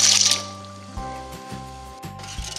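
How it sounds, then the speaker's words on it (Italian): Mezze maniche rigate pasta dropped into a pot of lightly salted boiling water previously used for cime di rapa: a soft splash and squishy bubbling over a steady low hum, with a few brief gurgling pulses, close and moderately loud. "Quindi vado a salare leggermente e calo la pasta."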